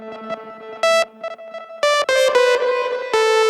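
Synth notes from a Digitakt 2 granular effect with octave-up granules: a shimmering, grainy texture and bright higher-octave sparkle, bursts of dense bright sound alternating with sustained tones, no speech.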